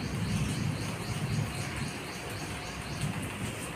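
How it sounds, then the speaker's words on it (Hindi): Steady rain pours down outdoors as a dense, continuous hiss with a low rumbling undertone, constant and fairly loud throughout. "अभी बारिश हो रही है"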